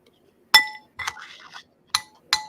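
A drinking glass clinks four times against a hard surface, each a bright, ringing close-up tap with a short decay, and a faint scraping between the second and third clink, in an otherwise quiet room.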